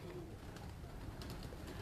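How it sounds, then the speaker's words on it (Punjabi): Pigeons on a rooftop, soft cooing carried over a steady low background rumble, faint and distant throughout. "ਆਹ ਜੌਂਸਰੇ ਵੀ ਕਬੂਤਰ ਹੈਗਾ ਜੀ ਦੇਖੋ ਜੀ।"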